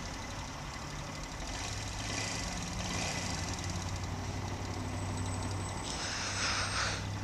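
A 2018 Honda CG 160 motorcycle engine with an irritating mechanical noise, idling in a steady low drone with a faint high whine toward the end.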